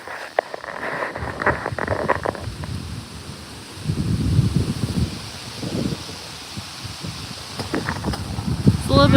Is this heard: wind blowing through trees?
yes